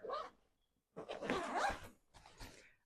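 A zipper on the ventilated shoe pocket of a performance day bag is pulled in quick rasping runs, a brief zip, a pause, then a longer drawn-out pull and a final short tug, close and clear.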